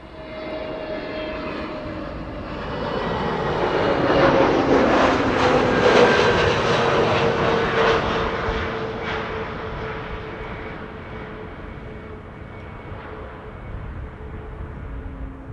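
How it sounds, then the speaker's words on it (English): EasyJet Airbus A320neo arriving at Amsterdam Schiphol from London Gatwick, a jet roar that builds and peaks mid-clip, carrying a steady whining engine tone, then eases off to a lower rumble. "So this is EasyJet arriving from London Gatwick. It's an A320neo, flight time 46 minutes."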